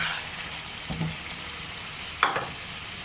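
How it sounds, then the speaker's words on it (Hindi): A pan of masala for vegetable biryani sizzles steadily after water is added, a constant frying hiss broken by a couple of soft stirring scrapes and a brief clink, with no voices. "थोड़ा सा इसमें हम पानी का भी तड़का लगाएंगे"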